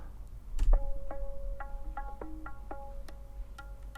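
Unprocessed tabla, dry and fairly quiet: a sparse run of about a dozen distinct struck notes with ringing pitched tones, played alone over a faint low hum.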